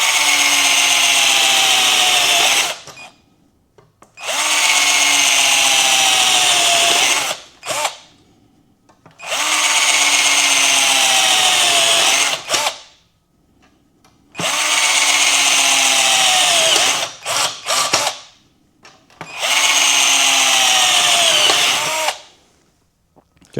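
A cheap Harbor Freight power drill bores into wood in five long bursts of a few seconds each, whining loudly, separated by brief pauses of quiet.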